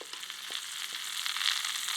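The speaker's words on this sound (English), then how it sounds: "Get just a little bit of sizzle." Quiet, steady sizzling of jalapeno cornbread batter frying in a hot greased pan, with faint crackles and pops close by.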